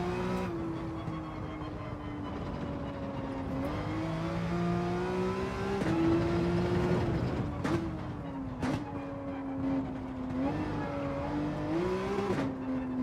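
Race car engine from Gran Turismo 7 holding a steady high drone with rising and falling revs through gear changes and braking, loud and continuous throughout a lap attempt.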